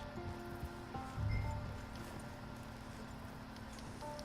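Soft hoof clip-clops from a walking horse in Red Dead Redemption 2 Online, faint and steady beneath a low ambient hum and game background noise.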